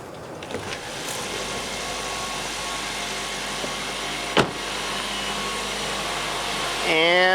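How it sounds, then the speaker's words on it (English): A Ford C-Max hybrid engine starts and idles with a steady, even hum that runs throughout and rises slightly near the end. "I'm going to turn it on and then turn the heater on to activate the engine"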